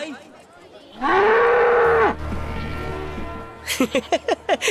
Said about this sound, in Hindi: यहाँ की गाय भैंस भी तेरा भाषण नहीं सुन रही।